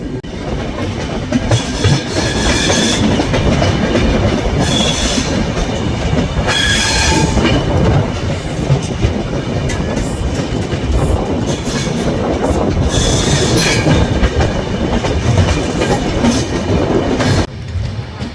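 An Intercity Express train pulls into Bharatpur Junction in Rajasthan, with a steady loud rumble of wheels on rails, rhythmic clickety-clack and intermittent high wheel squeals throughout, and no talking.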